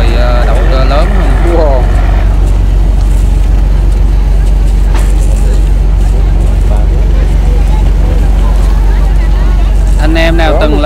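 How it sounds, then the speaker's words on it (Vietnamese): A small composite fishing boat fitted with an oversized engine runs off the coast of Ninh Thuận, Vietnam, giving a loud, steady drone that fills the whole stretch, with faint voices mixed in now and then. "Ghe này nhỏ nhưng trang bị động cơ lớn hơn."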